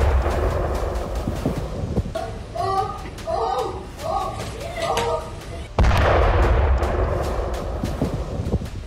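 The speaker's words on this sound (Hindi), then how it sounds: "एकाएक वहां पर पेजर ब्लास्ट हो गया" A pager explosion goes off in a busy Beirut market where people are shopping at a vegetable stall. Market bustle and voices give way to a sudden, loud blast that stays roaring and broad afterward.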